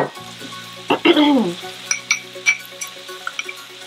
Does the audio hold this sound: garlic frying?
yes